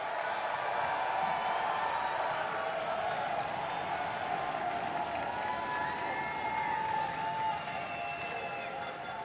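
Wrestling crowd at a live event cheering, a steady distant wash of voices and clapping that stays even and fairly faint throughout.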